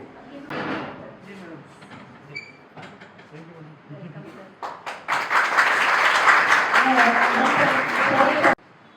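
Audience applause at a college welcome ceremony for Kala Ashram College of Teacher's Training, starting after a speaking voice and swelling into loud, sustained clapping from a hall crowd that cuts off abruptly.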